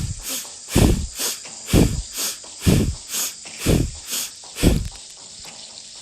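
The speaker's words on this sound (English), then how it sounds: "Now for this breath of fire, while you're forcefully inhaling and exhaling," Breath of fire, a yogic breathing exercise of forceful, rapid inhaling and exhaling through the nose, with about a dozen close, loud, rhythmic huffs pulsing at a steady pace and no talking.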